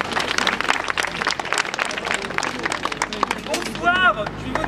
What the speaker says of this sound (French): Voilà, on l'applaudit.